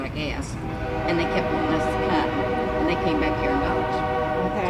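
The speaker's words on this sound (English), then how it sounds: "You can hear that train in the background." A train passes in the distance, its horn sounding in long sustained tones beneath a steady rail rumble while people talk over it throughout.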